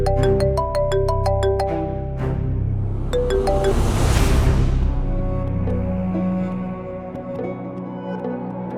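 A bright electronic ringtone melody of repeated chiming notes, loud and close, followed by a sustained tonal hum and fading ringing.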